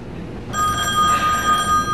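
A telephone bell rings loudly in a home, a bright sustained electronic ring that starts abruptly after a short pause and keeps going to the end.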